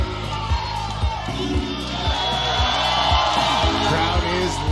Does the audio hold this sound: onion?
no